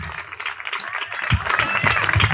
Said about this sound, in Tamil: உங்களுக்கு ஒரு வாட்டி நல்ல விஷயமாக கைத்தட்டலாமே